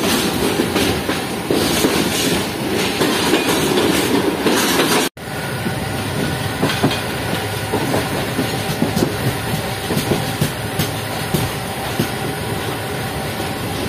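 The Shah Hussain Express pulls out of Faisalabad behind locomotive AG 36 011, a loud steady rumble of wheels and carriages with rhythmic clacking and a brief dropout midway.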